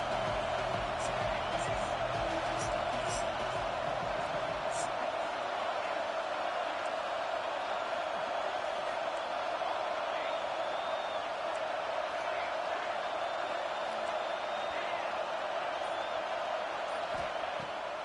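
A Florida Gators home football stadium crowd roars steadily on third down, a dense continuous wall of noise throughout, with an announcer talking over it.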